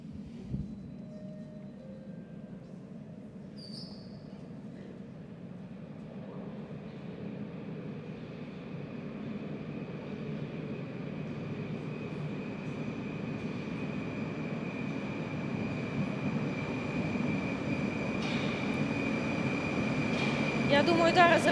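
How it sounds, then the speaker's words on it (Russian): A Moscow metro train of type 81-765 pulls into Rizhskaya station, a low rumbling roar that swells steadily louder as it approaches, with a faint tonal whine above it. "На станцию Рижская прибывает состав 81-765, Москва."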